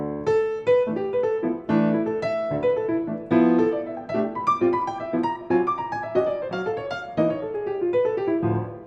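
A single-note jazz line over Dorian winds through quick phrases, slipping outside the key into tense notes before resolving, played clearly with no talking.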